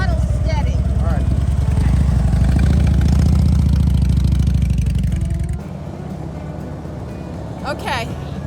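A motorcycle engine idles with the throttle held steady during riding practice, a loud continuous throbbing hum that drops to a lower, quieter idle partway through, with voices speaking over it.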